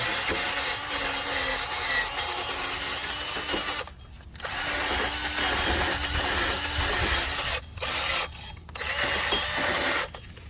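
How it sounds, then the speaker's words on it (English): Harsh, continuous grinding whir of a wire wheel scrubbing the threads of a bolt on a 2012 Chrysler 300, close and loud, broken by several brief pauses as the tool lifts off. "Take your wire wheel and clean up your threads also."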